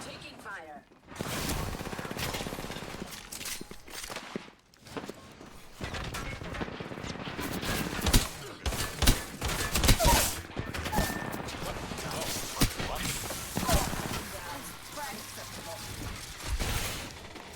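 Sustained gunfire in the video game Remnant 2, bursts of automatic fire and scattered shots with occasional crashes, loud and mixed with people talking throughout.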